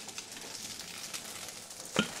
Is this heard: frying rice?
yes